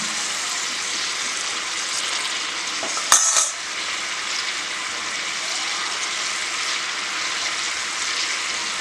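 Wild Indian gooseberries fry in a pan with a steady, close sizzle throughout, broken once by a brief utensil clink partway through.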